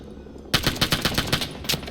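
Rapid automatic bursts from an M3 grease gun submachine gun in the Vietnam War shooter Rising Storm 2: Vietnam, a loud, close string of sharp shots at a steady cyclic rate.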